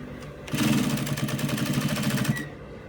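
Sewing machine stitching a kaftan neckline in one close burst of rapid rhythmic clatter lasting about two seconds, starting and stopping abruptly.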